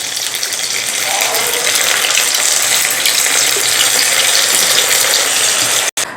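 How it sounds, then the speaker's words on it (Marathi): Jowar flour mutke frying in hot oil make a loud, steady, gushing sizzle that runs without a break until a brief cut near the end. "आता आपण बाकीचे मुटके अशा पद्धतीने तळून घेऊया"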